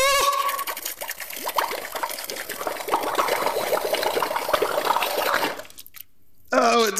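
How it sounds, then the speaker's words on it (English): Water dumped out of balloons pours and splashes nearby in a continuous, loud, dribbling rush that cuts off abruptly near the end before another short burst of sound. "Okay, I'm gonna dump all that water."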